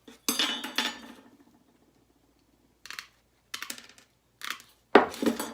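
Scissors cut through material for a homemade sugar roll kit for bees: a few sharp snipping bursts, a longer crunching cut at the start, then scattered short clips close by with quiet gaps and no talk.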